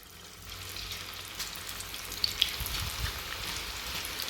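Onion pakoda batter dropped into heated oil, a soft bubbling sizzle swelling after a quiet start and then holding steady with a few small pops, no voices.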